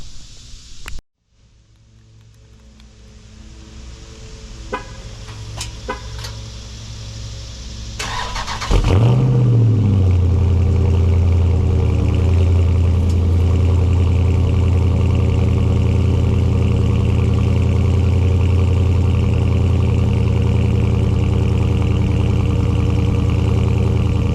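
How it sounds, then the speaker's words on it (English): Dodge Charger Scat Pack widebody fires up from cold after a quiet stretch, its starter catching into a loud, deep engine roar that flares and then settles into a steady, rumbling idle close by. "I'm gonna do a little cold start, and then we're gonna get into it."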